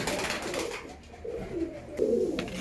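Domestic pigeons cooing at close range, with a soft murmuring coo that swells near the end, over faint background noise, kept as pets and fed a mixed grain feed.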